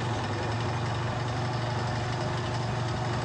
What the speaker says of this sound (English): The engine comes up to speed.